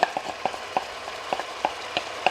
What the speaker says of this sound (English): Now I'm going to add that sauce that I made earlier.